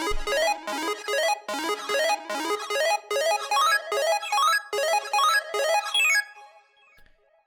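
Bright arcade-style synth lead built from Portal presets plays a fast bouncing melody in repeated phrases, close and loud, with EQ, reverb and a touch of delay, before ringing out in a short tail.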